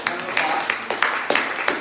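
A live audience applauds and claps for a group of panelists at a dating talk in Denver, a steady mid-loud patter of hands with a few sharper claps rising through the applause.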